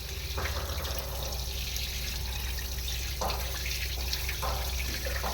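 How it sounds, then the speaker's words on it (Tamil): Drinking water runs from a tap into a container at home in a steady, continuous stream with no voices over it. "நாங்கள் வந்து இதிலேயே தண்ணி பிடிச்சிக்குவோம்."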